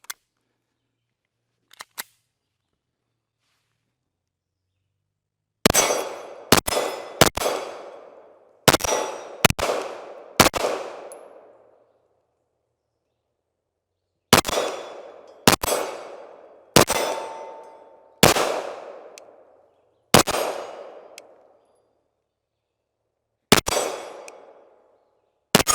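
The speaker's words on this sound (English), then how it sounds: "I am going to attempt to shoot the Canik TTI Combat" A Canik TTI Combat pistol fitted with a red dot fires about fourteen shots. Each ends in a sharp ringing clang off steel targets, first in a quick string, then after a pause in a steadier sequence. The clangs are loud and isolated, with no talking.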